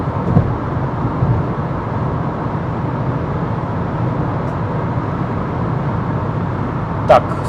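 Renault Kangoo Maxi Mk 6 van cruising on a highway at about 128 km/h and 2,500 rpm, a steady loud cabin drone of engine, tyre and wind noise, with a brief click near the end.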